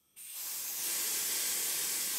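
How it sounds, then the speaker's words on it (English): Steam rushes from an opened valve on a Stuart model steam plant boiler, a sudden close hiss that starts abruptly and holds steady and loud to the end, alone with no voices. "When I open one of the steam valves, the pressure drops considerably on the pressure gauge."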